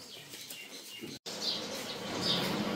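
Pigeons flap their wings in short fluttering bursts, faint and somewhat distant, with a brief break partway through, followed by a louder stretch of rustling flight.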